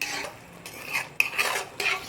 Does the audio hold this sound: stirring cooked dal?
yes